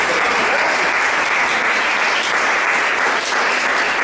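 Loud, sustained applause from a church congregation during a Spanish-language sermon, a dense continuous wash of clapping with no talk over it.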